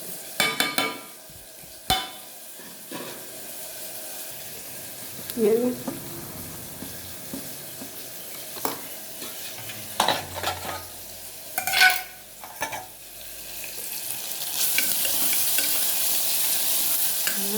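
Chopped onion, green chilli, pepper and cumin sautéing in a pan, a continuous frying sizzle with repeated spoon stirs and scrapes, close up, with a few brief clinks.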